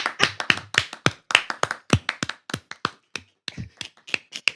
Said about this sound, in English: Try to do a slow clap.